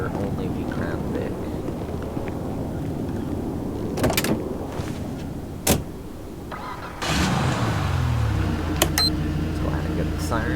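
Ford Crown Victoria door opening and shutting, a game sound-pack effect: sharp clunks near 4 and 5.7 seconds over a steady car idle, then a mechanical whir and latch as another door sound starts around 7 seconds.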